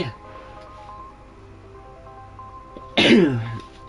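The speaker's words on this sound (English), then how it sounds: "sorry for the sneeze" A single loud, abrupt sneeze bursts out near the end after a stretch of quiet room tone with a faint hum, during a live F1 Manager game stream.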